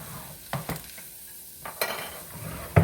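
Ground sirloin starts cooking in a soup pot with a low sizzle. A utensil clinks and scrapes against the pot in a few sharp strikes, and a louder knock comes at the end.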